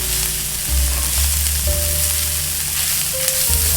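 Burrito beef filling frying and being stirred in a pan, with a loud, continuous sizzle close up and occasional stirring scrapes running throughout.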